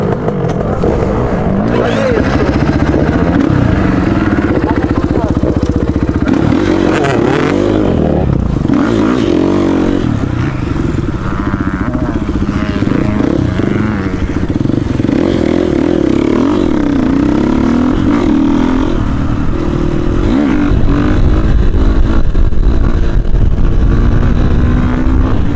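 An enduro motorcycle rides hard over rough terrain with its engine revving and snarling continuously throughout, joined by other noise at close range.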